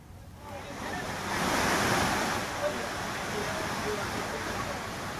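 A loud, continuous roar of rushing floodwater in the Fuljar river at Meriyani, Gujarat, steady and broadband, swelling slightly partway through, with no voices.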